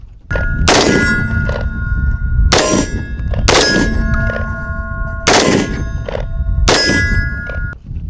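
Loud rifle gunshots from a 7.5-inch-barrel rifle with a pistol-length gas system and a Hoffman Tactical Trigger Kicker fire in quick bursts, with sharp metallic clangs ringing after them, close and echoing.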